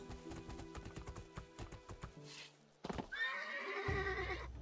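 In the video game Two Worlds 2, hooves clip-clop in a quick rhythm, then break off as the horse is reined in and gives a loud, close neigh.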